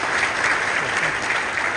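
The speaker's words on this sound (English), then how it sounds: "let's give him a round of applause again" Audience applause at an opening session of a security conference, a dense, steady burst of clapping from a crowded room that holds at full strength throughout.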